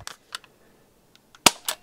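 Air gun shots fired across a chronograph, several sharp cracks with one loud shot near the end, separated by quiet gaps.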